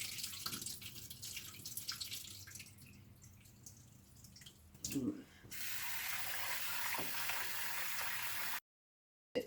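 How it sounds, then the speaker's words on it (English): Rice being washed in water, with trickling and dripping followed by a steady, louder stream of running water from a tap into a sink, close by, ending abruptly. "So it's 2 cups, and then you will wash it."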